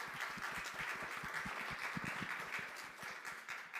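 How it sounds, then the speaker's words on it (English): Audience applause at a Rutgers–New Brunswick diversity showcase, sustained and fairly faint, a dense patter of many hands clapping steadily with no voices over it. "let's give them another round of applause"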